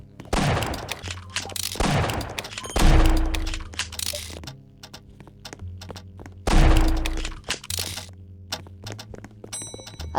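Pistol shots in an animal hospital video game: several loud, sharp reports, some in quick pairs, spaced across the span with ringing tails and low tonal game sounds between them.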